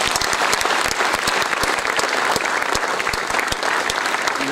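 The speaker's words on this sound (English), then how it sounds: "please join me in welcoming the Managing Director and CEO of the Federal Bank Limited, Sri Shyam Srinivasan, with a round of applause" A large student audience applauds to welcome the Managing Director and CEO of the Federal Bank Limited at an IIM Calcutta freshers' welcome, with dense, steady clapping that fills the hall throughout, loud and continuous with no voices over it.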